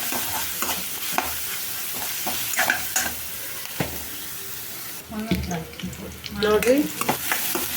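Onions fry and sizzle in a pan while being stirred, with scraping strokes and clatter close by, and a voice speaks briefly partway through.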